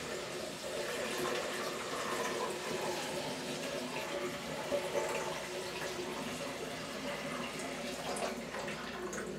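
Mead poured during racking in a bathtub, a steady continuous splash and trickle of liquid filling a vessel, close and moderately loud throughout with no pauses.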